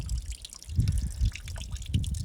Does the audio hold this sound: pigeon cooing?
no